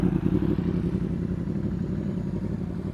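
A motorcycle engine runs close and steady while the rider lets the clutch out during a skills practice run. The chugging idle rumble is loud and even, with a slight dip in pitch midway, and no talk is heard.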